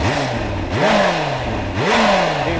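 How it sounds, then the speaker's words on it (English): Kawasaki H2 SX supercharged motorcycle engine revving up in repeated throttle blips, pitch rising and falling in two or three surges over a steady idle rumble, loud and close with no talk. "If we start the engine and use some throttle"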